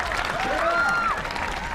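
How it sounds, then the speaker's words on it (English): Crowd applauding at a climbing competition during the Asian X Games 2004, a steady wash of clapping and cheering throughout, with a brief whistle-like tone rising above the noise. "Crowd loving the action out here as Kita Mogaki out of Japan works his way up"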